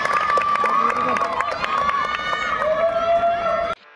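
Spectators at an Assam inter-district sub-junior basketball championship final cheer loudly, with shrill shouts and excited crowd noise running continuously before stopping suddenly.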